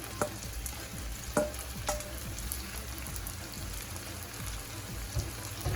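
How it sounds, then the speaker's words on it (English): Okra frying in an uncovered pan, a soft, even crackling sizzle like light rain, with a few faint clicks from a utensil scattered through it. "So I'm just going to let my okra here, or okra, fry up a little bit until it turns about a little darkish brownish color."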